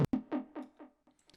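Lower-octave Serum synth bass riff from the drop of a track: a sharp opening hit followed by four or five deep, buzzy notes that each swell and fade, playing alone and trailing off quietly.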